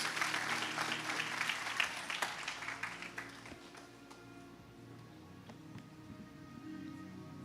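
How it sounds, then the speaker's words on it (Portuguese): A church congregation claps loudly in a full, dense burst of applause that thins out after about three seconds into quieter, scattered sounds from the room. "Você pode dar um aplauso bem forte ao Senhor?"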